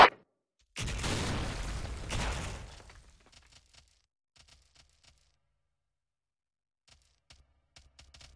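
A grenade blast in a video game bursts out loud and broad, a roaring explosion lasting about two seconds, then trails off into sparse small clicks and faint scattered noises.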